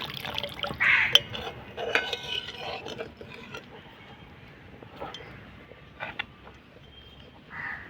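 Water poured into a pan of boiled soybean curry with fried potatoes, a soft liquid splash and trickle with faint stirring and pan clinks, close by and fairly quiet, with no talk.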